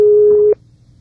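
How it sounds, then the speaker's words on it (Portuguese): A single steady telephone busy tone sounds for about half a second after a dropped call, then cuts off abruptly into near silence. "Chico Twitter, a ligação caiu aqui, rapaz."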